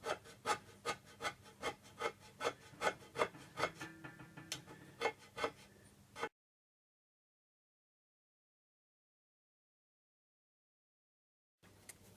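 Hand scraping on the cast-iron bed of a Myford 7x7 lathe in a cramped workshop gives a series of sharp, rhythmic scraping strokes about twice a second, then a long silence and a brief return.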